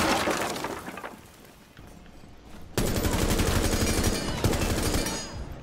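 Gunfire in the Rainbow Six Siege video game, with a loud burst of rapid automatic shots, a brief lull, then another sustained stretch of heavy, close firing mixed with breaking, shattering debris.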